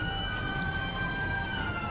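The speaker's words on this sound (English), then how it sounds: "We're going to be engaging our siren." A police car siren in the video game GTA 5 with the LSPDFR mod wails steadily at moderate volume over a faint background rumble.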